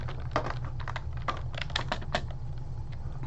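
Rapid, uneven computer keyboard typing with clustered keystrokes over a steady low hum, played as keyboard-and-mouse Fortnite; no voices.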